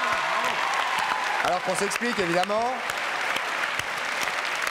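A French TV show studio audience applauds in a loud, continuous wash of clapping, while someone speaks over it midway through.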